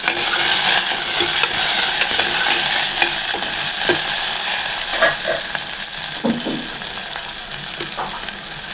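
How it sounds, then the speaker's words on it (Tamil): Peeled shallots and garlic sauté in oil with a loud, continuous sizzle, broken by spatula scrapes and clinks as they are stirred, close up. "சின்ன வெங்காயம் தோலை உரித்து க்ளீன் பண்ணி வச்சுருக்காங்க, அதுவும் போட்டுக்கலாம். பூண்டு போட்டுக்கலாம். இது நல்லா வதங்கட்டுங்க."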